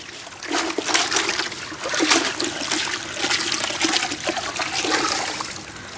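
Drumstick leaves rinsed and swished in a bucket of water, making repeated splashing and sloshing bursts with dripping between them, close and fairly loud.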